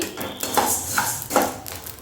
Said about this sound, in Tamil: பிளேட்டில் ட்ரான்ஸ்ஃபர் பண்ணிக்கலாம்.